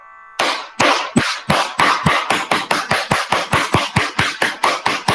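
One person's hands clap in a brisk, even rhythm during a group energy exercise, with about eighteen sharp claps in quick succession. The claps are close and loud and hold a steady pace throughout.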